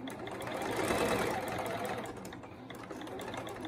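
A sewing machine stitches fabric for a scrunchie, with a steady, close mechanical whir and fast needle chatter that swells and then eases slightly.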